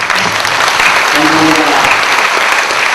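A seated audience at a formal Korean association event applauds as the vice presidents stand to be greeted, a loud, dense, steady wash of clapping filling the whole moment, with faint voices mixed in.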